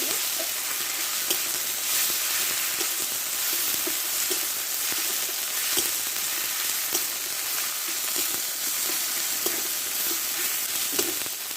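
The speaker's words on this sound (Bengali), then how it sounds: "আমি একসঙ্গে দিয়ে দিই মশলাটা ভালো করে কষে" Ginger, green chilli, cumin and garlic paste masala sizzles steadily in a pan with a dense, continuous crackle, punctuated by soft periodic scrapes of stirring; no voices.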